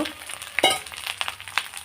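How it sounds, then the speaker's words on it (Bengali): Seasoned rice grains fry in a pan with spices and a little grated coconut for a hilsa pulao, giving a short, close burst of crackling sizzle broken by quick stirring scrapes. "আমি যে চালটা মেখে রেখেছিলাম সেটাও সুন্দর ভেজে নেব"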